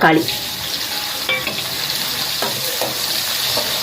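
Garlic and onion sautéing in oil for sambar, a steady sizzle with scraping stirs that stays fairly loud throughout.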